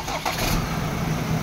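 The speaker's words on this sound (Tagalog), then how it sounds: "Okay, engine start." A Ford Ranger 2.0 engine cranks and catches, settling into a steady idle during alternator fault diagnosis; the start is brief and close, with a low rumble throughout.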